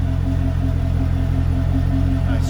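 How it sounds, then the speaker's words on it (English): A 2008 Corvette convertible 3LT with a six-speed manual idles close by, its exhaust giving a steady low rumble with an even, pulsing chug and no voices. "And there's the exhaust for you."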